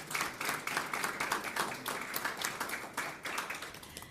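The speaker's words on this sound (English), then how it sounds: "Let's give them another round of applause." Applause at a school board meeting honoring a middle school symphony orchestra, sounding as a fairly sparse group of individual claps in uneven bursts, moderately close and without talk.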